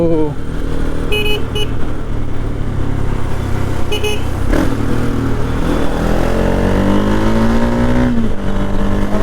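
A motorbike riding along a road, its engine a loud, steady drone with revving swells and a rising whine toward the end, with other traffic noise mixed in.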